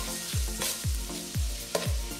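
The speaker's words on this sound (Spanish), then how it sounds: "vamos a dejar que se fría para agregar el jamón" Chorizo and meat frying on a discada in Chihuahua, a steady close sizzle broken by several rhythmic scraping stirs about half a second apart, with no voices.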